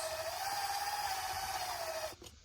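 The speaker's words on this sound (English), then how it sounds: "So got a little unibit here. I'm gonna cut a hole in the top of this," A small unibit bores a hole through a plastic bottle top, a steady close drill whine running for about two seconds before stopping abruptly.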